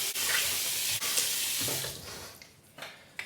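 Hot water gushes from a tap for shaving, a loud close hiss of running water that cuts off after about two seconds, followed by faint small splashes and handling sounds.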